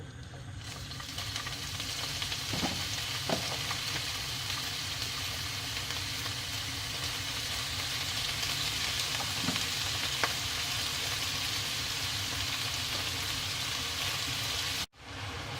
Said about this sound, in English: Now I'm going to brown off about 500 grams of minced beef in 2 tablespoons of olive oil.